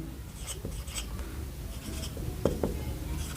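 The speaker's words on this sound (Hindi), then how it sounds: "यहां पे लिख देते हैं" Marker or chalk writing on a board during a class 10 heights and distances maths lesson, soft scratchy strokes in short bursts with a couple of sharper taps, faint over room noise.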